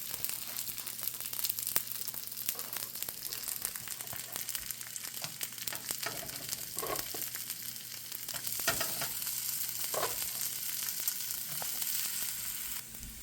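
Plant-based starch bacon sizzles and fries steadily in a pan on medium heat, a continuous close crackle with occasional brighter pops and faint utensil scrapes.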